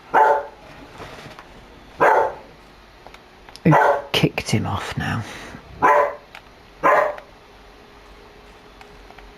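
Dog barking in the Farm Sim 25 video game, several short loud barks spaced a second or two apart, with someone speaking between them.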